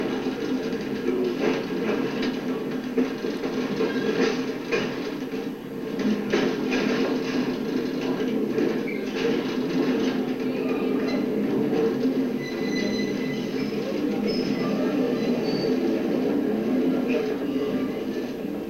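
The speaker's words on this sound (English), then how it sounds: "That's quite a pull for the freight train" A freight train climbing Sperling Hill rumbles steadily for the full length, with rail noise and occasional faint wheel squeals, heard from inside or close by with some voices.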